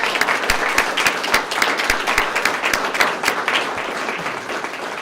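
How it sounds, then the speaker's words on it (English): Applause rises at a police department swearing-in ceremony, a dense, steady clatter of many hands with some sharp close claps standing out, easing slightly toward the end. "So let's give them a round of applause."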